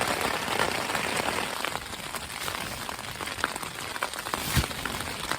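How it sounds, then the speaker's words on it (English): Steady rain falling in the mountains among low clouds, a dense continuous patter of drops on surfaces with a few sharper nearby drips, even and unbroken throughout. "So much rain."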